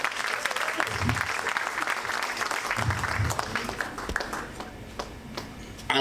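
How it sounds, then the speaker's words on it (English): An audience at Dele Momodu's 65th birthday lecture gives a former president a big round of dense applause, steady and close throughout and fading slightly near the end. "A big round of applause for him."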